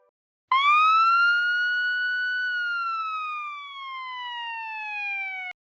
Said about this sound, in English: That's a police car.